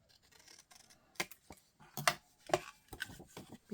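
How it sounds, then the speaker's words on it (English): Scissors snip through paper circles in a series of short, crisp cuts, irregularly spaced and close, with sharper snips standing out among softer rustling. "I am going to trim these off so I can get this in the punch."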